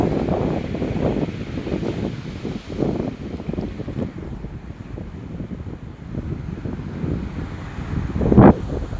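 Wind buffets a microphone in a forest in steady low gusts, rumbling throughout with a brief stronger burst near the end; no voices.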